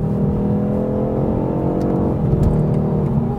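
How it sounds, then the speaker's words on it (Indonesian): A BMW 430i Coupe M Sport engine revving hard and droning at high RPM, loud and close, with a slight rise in pitch near the end. "kalau kita mau lebih nikmatin suara mesinnya, kita harus paksa mobil ini ke RPM tinggi"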